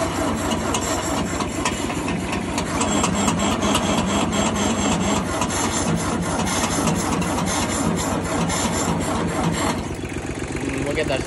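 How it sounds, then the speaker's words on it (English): A 1956 Ford 800 tractor's starter cranks the engine in a continuous rapid grinding rhythm for about ten seconds, loud and close, with brief talk mixed in. "We'll get that starter a little bit of a rest."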